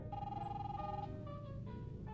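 A phone rings inside a Roblox horror house game, a short electronic ringtone of a few quiet rising and falling tones over a low background hum.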